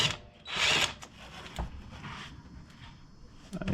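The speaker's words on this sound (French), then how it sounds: "j'utilise la déboulonneuse" A cordless impact wrench briefly whirs and rattles while loosening Torx screws on the downpipe of a Golf 7 GTI, one short loud burst followed by faint clicks and metallic handling sounds.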